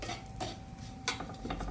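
Dry fruit and coconut roasting in ghee in a pan, stirred with a metal spoon that scrapes and clinks against the pan in irregular strokes over a soft background hiss.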